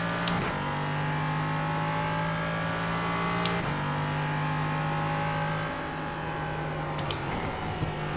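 LMP3 prototype race car in iRacing, engine droning steadily under load with a few sharp gear-change blips, continuous and close from the cockpit.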